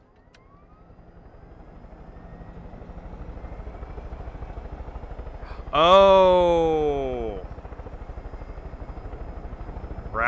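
Helicopter in the video game Far Cry 5: a steady rotor thump and engine drone runs throughout, with a brief loud sweeping whine in the middle, and a player's voice briefly exclaims.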